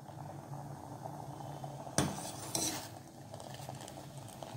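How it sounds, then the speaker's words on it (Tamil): Rice payasam made with raw rice is stirred in a pot with a ladle, giving soft scraping and a couple of sharp metallic clinks against the pot over a low simmering background. "அதனால் அந்த வேகிற வரைக்கும் கரண்டி வச்சு கிண்டிகிட்டே இருங்க."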